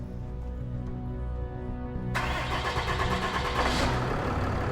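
A heavy truck engine from a heavy-recovery operation cranking over and then firing up, the cranking hum giving way abruptly to a louder, rougher, steady running roar, close and without talk.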